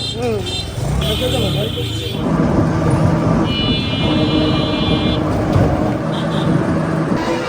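Mahindra vehicles speeding past on a road near a village market, engine and tyre rumble with passing horns and buzzing tones, mixed with steady talking close by.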